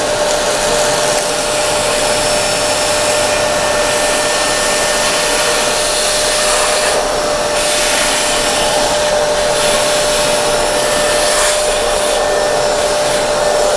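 Deerma DEM-DX700S vacuum cleaner running steadily at close range, a loud, constant broadband whine with a faint tonal hum, holding level throughout with only slight dips in pitch texture.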